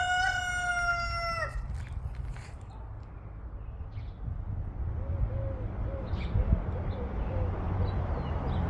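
Backyard garden roosters crow, one full near cock-a-doodle-doo at the start followed by fainter repeated calls and clucking from the flock further off, over a steady outdoor background.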